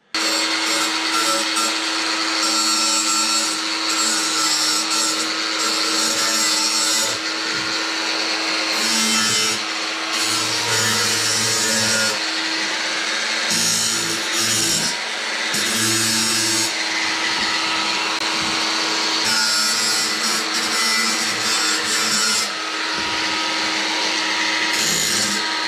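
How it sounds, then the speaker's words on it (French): An angle grinder removes the burr from a cut edge of zinc roofing. It makes a loud, continuous, close high-pitched whine and grinding rasp that runs almost unbroken, with slight dips as the disc touches and lifts. "Et bien, je vais repasser un petit coup de meuleuse."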